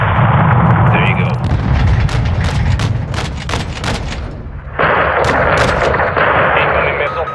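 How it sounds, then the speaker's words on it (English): Heavy gunfire and booming artillery-like blasts from Call of Duty: Modern Warfare II combat, with rapid repeated shots and explosions close and loud, under faint muffled voices. "Incoming missile."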